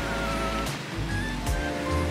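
Ocean surf breaking at a remote Indonesian reef spot with hollow, triangular tube waves: a steady, loud wash of churning water with surges of crashing whitewater, heard alone.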